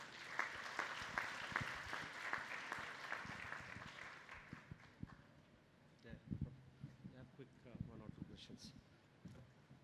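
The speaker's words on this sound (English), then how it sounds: "big round of applause for both the speakers" Audience applause at a technical summit session, a crackly patter of clapping mixed with people talking; it rises early, then thins into scattered claps and voices toward the end.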